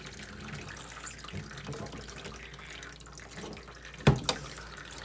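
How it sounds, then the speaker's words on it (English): A garden tap runs water outdoors after a turmeric harvest, a faint steady splash under background noise, ending with a brief louder burst of water as it is shut off. "Turn the water off."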